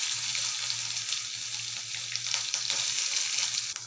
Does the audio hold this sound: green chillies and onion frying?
yes